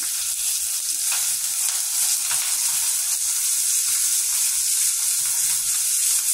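Onions and green chilies sizzle in a hot pan, a dense continuous hiss with faint crackles, close up and steady, no talking.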